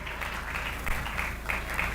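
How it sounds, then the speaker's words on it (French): A church congregation applauds during a French and Lingala sermon, a steady moderately loud wash of many hands clapping with slight surges, no clear speech over it. "Applaudissez très fort pour ça."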